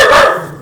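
A single sharp, loud dog bark close by, cut off quickly with a brief fading tail.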